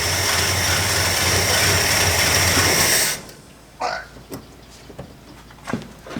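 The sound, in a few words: engine running with ignition timing too far advanced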